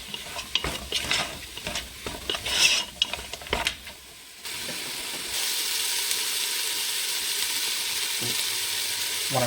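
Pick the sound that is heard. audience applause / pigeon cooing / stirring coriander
stirring coriander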